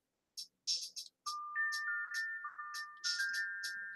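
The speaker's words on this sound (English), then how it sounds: "it was literally created by a wind chime" A tune made from wind chime sounds plays as short, bright metallic strikes followed by sustained, ringing tones that overlap and hold like a gentle melody, clean and alone.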